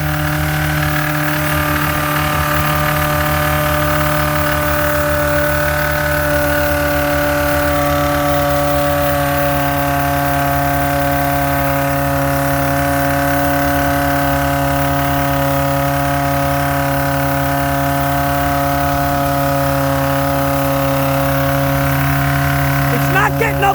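A Toyota Corolla engine runs continuously at a steady, droning pitch, loud and close, with a faint irregular knocking texture underneath, and is not revving up as it used to.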